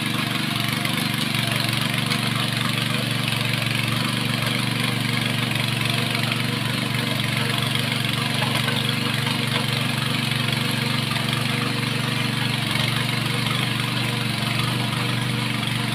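A tractor engine ploughing a rice field drones steadily and continuously at close range, a constant mid-pitched rumble with no breaks.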